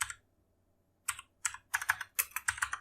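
An amount is typed on a computer keyboard: after a second of silence come sharp, close key clicks, first a few spaced taps and then a quicker run of strokes.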